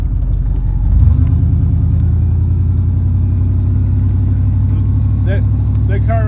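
A car around sixty years old drives close by, its engine a loud, steady low rumble that swells briefly early on and then holds, while people talk over it.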